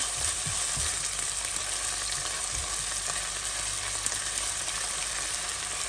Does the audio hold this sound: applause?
no